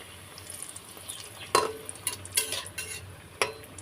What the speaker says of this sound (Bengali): এইগুলো লাল করে ভাজতে হবে